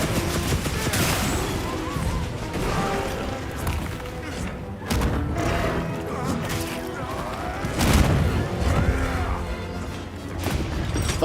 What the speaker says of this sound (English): Are you exploding things?